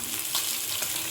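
Sardines frying in a pan, a steady, moderately quiet crackling sizzle that carries on without a break.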